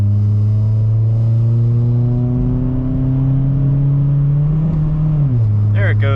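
A 2002 Mitsubishi Lancer engine drones loud and steady as it pulls through third gear, pitch creeping upward before dropping sharply at a gear shift near the end.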